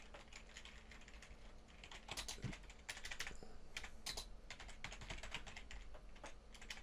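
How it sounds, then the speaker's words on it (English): Steady typing on a computer keyboard, a continuous quiet patter of key presses with uneven rhythm and occasional louder strokes, faint and alone. "So you would type your story in there."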